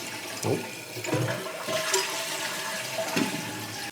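A toilet flushing and refilling after a new fill valve and flapper were fitted, with a gurgling rush of draining water, a few clunks and splashes, then a steady hiss of the tank filling.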